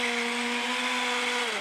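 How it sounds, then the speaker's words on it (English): A blender whirs prawn curry paste smooth with a steady, close motor whine that dips slightly in pitch at the end. No one speaks. "I'm going to give this a good blend until it's quite smooth."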